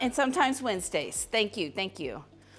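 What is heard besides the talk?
No distinct noise like a dog, phone or traffic.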